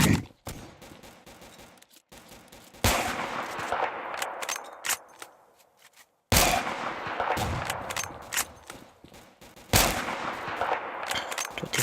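Gunfire in the shooter game Kuboom comes in rapid bursts of sharp shots with brief pauses between volleys, loud and close.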